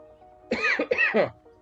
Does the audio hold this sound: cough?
yes